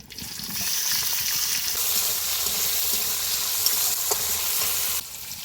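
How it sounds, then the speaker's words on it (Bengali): Chopped onion and tomato drop into hot oil already crackling with panch phoron, whole cumin and a green chilli, setting off a loud, close, steady frying sizzle that holds for several seconds before easing off. "তেলটা গরম হয়ে গেছে পাঁচ ফোড়ন গোটা জিরে আর একটা কাঁচা লঙ্কা দিয়ে দিব ফোড়নটা ভালো করে ভেজে গেছে কেটে রাখা পেঁয়াজ টমেটোটা দিয়ে দিব"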